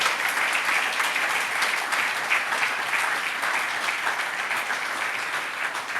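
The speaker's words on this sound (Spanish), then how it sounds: "Dale fuerte el aplauso." Sustained church congregation applause, dense and steady for several seconds with no speech over it.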